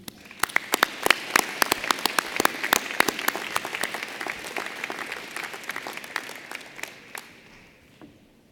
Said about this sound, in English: please recognize the class of 2019 graduates of the Master of Science with your applause